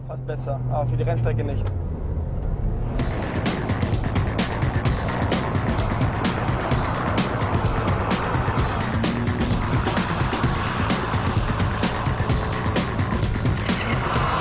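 A Ferrari 575 M drives hard on a wet racetrack, its engine roar blended with a steady hiss of tire spray that runs close and loud throughout.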